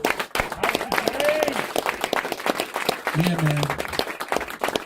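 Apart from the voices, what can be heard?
audience applause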